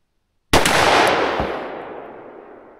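One loud, sharp report from a .357 Magnum pistol with a 4-inch barrel, ringing out and trailing off in a lengthy fading reverberation.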